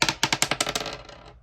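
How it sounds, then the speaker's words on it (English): Dice rolled onto a hard surface: a quick run of sharp clicking impacts, about a dozen close rattling bounces that tighten and fade over a second and a half, up close with no talking. "see what the dice has in store for me"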